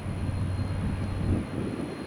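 Jet airliners, a Southwest and a JetBlue, approach Tampa airport with a steady low engine rumble that holds level and fairly distant throughout, with no voices.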